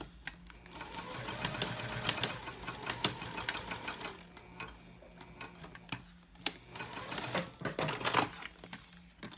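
A sewing machine runs a seam down the side of a bifold wallet, a quiet rapid ticking stitch that pauses midway and resumes in short uneven bursts with small clicks.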